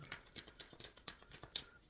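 Tarot cards being shuffled by hand: a quick run of crisp riffling snaps and soft slaps in steady rhythm, close and clear, with no talking.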